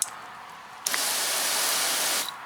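Water from a garden hose nozzle set to an angled spray, starting suddenly after a quiet gap and hissing steadily and fairly loudly before cutting off near the end.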